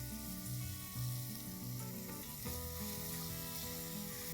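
Salted onions fry and caramelize in a pan, giving a steady, close sizzle and crackle with occasional stirring scrapes.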